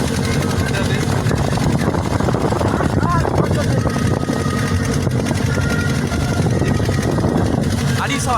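A fishing boat's engine runs hard at speed, a loud, steady droning roar filling the whole stretch, with faint voices briefly over it.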